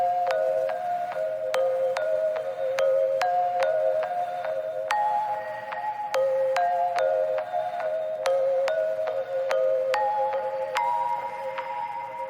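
A bright synth pluck melody made from a Serum patch plays alone, with crisp repeated notes in a steady bouncing rhythm, clear and moderately loud.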